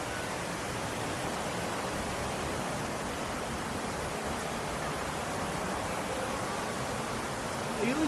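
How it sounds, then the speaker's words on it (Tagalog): Maranum Falls in Pangasinan pours as a steady, dense broadband roar of falling water, constant and fairly close for the whole stretch with no break, and a faint brief sound rising near the very end. "Ayun yung falls."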